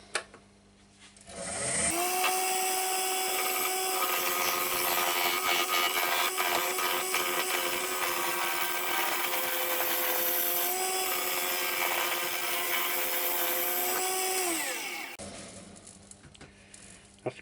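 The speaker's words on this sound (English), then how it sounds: "That seems to be coming off quite nicely with this big old gouge." Big gouge cutting yew wood on a spinning lathe, a loud steady scraping whine that holds for about thirteen seconds before tapering off, with no talk.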